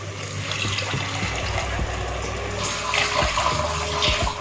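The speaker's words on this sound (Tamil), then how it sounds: "1 கப் அரிசிக்கு 2 கப் தண்ணி ஆட் பண்ணிக்கணும்." Water pours steadily into a pot, a continuous rushing splash that swells slightly near the end, with faint clinks underneath.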